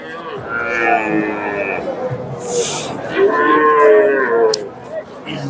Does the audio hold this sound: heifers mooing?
yes